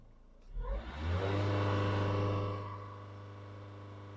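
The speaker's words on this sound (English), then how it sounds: "vehicle automatically rev up" Vauxhall Vivaro van engine revving up on its own during a diagnostic reset, a brief rising surge that settles into a steady elevated idle drone, heard close with no talking.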